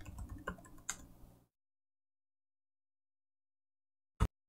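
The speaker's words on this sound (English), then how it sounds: "I'll type in my super secret password, preferably correctly." Password typed on a computer keyboard: a short burst of rapid, faint key clicks for about a second and a half, then silence and one final isolated key press.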